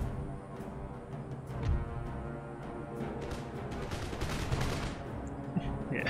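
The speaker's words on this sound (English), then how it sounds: "a lot of shots going in against nothing there" Musket volleys in Empire: Total War rattle steadily as a battle rages, with dense crackling gunfire layered over a constant din of distant combat and a few sharper shots standing out.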